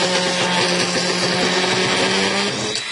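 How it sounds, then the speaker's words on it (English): A Dremel rotary tool cutting out a part of an AMT 1/537 plastic model kit of the USS Enterprise NCC-1701-A, giving a loud, steady high-pitched whine with a grinding edge that runs throughout, close up with no talk. "I'll just get the Dremel in there and follow the hole."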